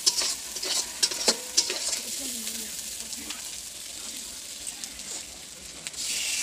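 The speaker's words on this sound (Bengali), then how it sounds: "ভালো করে কাঁকড়াটা দিয়ে কষছে" Crab is sautéed and stirred with spices in a pan, a close, steady frying sizzle broken by sharp clicks and scrapes of a utensil against the pan.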